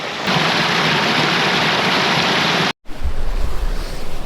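A clear, peaty hill burn flows in Northumberland's Cheviot Hills, a steady close-up rush of water that breaks off briefly, then resumes with wind buffeting the microphone.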